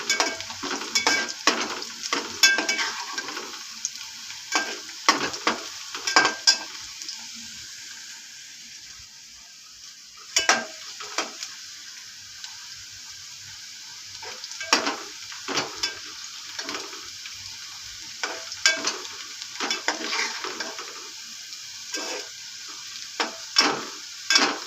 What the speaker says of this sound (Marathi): कांदा लाल होते, कांदा अजून लाल झालेला नाही आहे